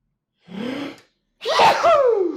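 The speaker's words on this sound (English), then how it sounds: "I need to sneeze." A short breathy intake followed by a loud, explosive sneeze, close up and alone.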